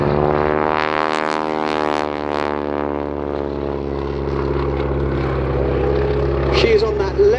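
A propeller warbird flies a display at the Sywell airshow, its engine droning loud with a sweeping pitch shift as it passes, while a commentator talks over the PA.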